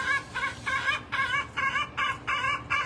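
A hen clucks repeatedly in a steady rhythm, about eight short bursts in a row, close and fairly loud with no one talking.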